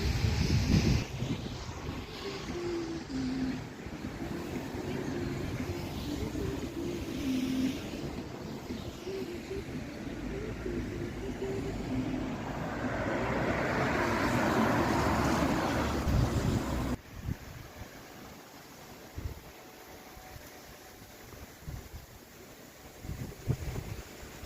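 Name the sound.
strong wind with drizzle outdoors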